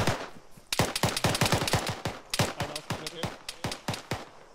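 Rapid bursts of gunfire in the video game Arma 3 crackle in quick succession, loud and sharp, with brief pauses between volleys.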